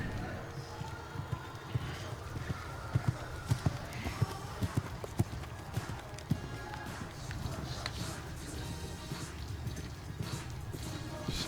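Horse hooves thud in a steady clip-clop rhythm on an arena surface during a Grade IV para-dressage test at the FEI European Championships, heard at moderate distance under crowd ambience and occasional commentary.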